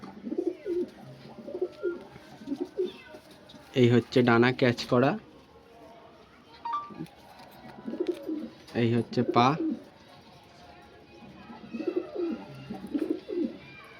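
Pigeons coo in soft repeated bursts, close by, while someone talks over and between the calls.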